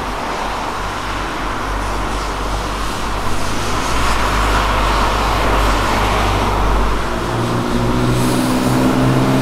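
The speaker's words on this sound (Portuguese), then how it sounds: "Tá vindo uma Porsche, uma Ferrari e uma Corvette." Sports cars, a Porsche, a Ferrari and a Corvette, pass along a road with loud, sustained engine roar and rumbling traffic noise, swelling as they go by.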